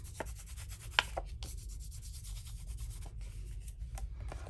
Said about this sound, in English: we're just going to give these a good rub. Good burnishing with our finger.